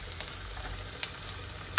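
Capsicum pieces fry in a pan for pasta, giving a faint, steady sizzle with a few soft ticks over nearly two seconds and a brief louder clatter right at the end.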